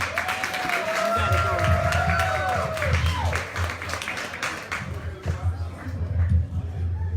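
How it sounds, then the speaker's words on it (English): Open mic crowd applauding and cheering as the next performer is called up, steady clapping and whoops filling the room with a host's voice running over the top. "Put your hands together for Lee Da Vinci"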